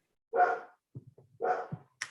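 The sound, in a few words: dog barking in the background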